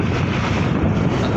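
Wind and big waves around a fishing boat heading out on the open sea off Ratnagiri; a loud, steady roar of wind buffeting the microphone over rushing water, close and continuous, with no voices.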